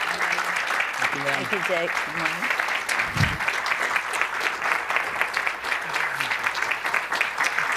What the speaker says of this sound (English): we don't get that kind of applause, ever.